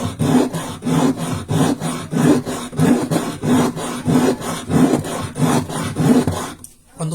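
Steady back-and-forth rasping of an ordinary chondrite meteorite on a wet, coarse-grit knife-sharpening stone, about a dozen rhythmic gritty strokes, close and fairly loud, stopping near the end.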